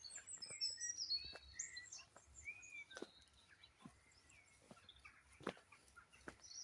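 Birds calling on a quiet rural evening, with scattered chirps and whistles near and far and sharp distant calls that may be pheasants, over low ambient hush.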